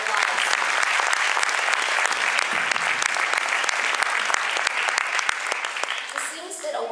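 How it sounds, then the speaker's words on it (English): Audience at a Sri Sathya Sai Baba birthday celebration applauding students after a performance, a dense, sustained roar of clapping that tapers slightly near the end. "Let's give them a big round of applause."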